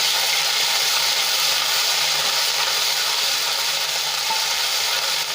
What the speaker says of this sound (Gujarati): એને આપણે અડધી મિનિટ માટે સાંતળી લઈશું